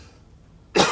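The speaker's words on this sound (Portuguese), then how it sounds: "Desculpa, deixa eu tossir." A single sharp cough bursts out near the end after near-silence, loud and close, from a speaker pausing during a talk about orchid potting substrate.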